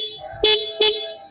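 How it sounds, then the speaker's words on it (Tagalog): A 2025 Honda Navi scooter horn gives two loud, short honks close by, evenly spaced less than half a second apart. "Malakas yung busina niya guys."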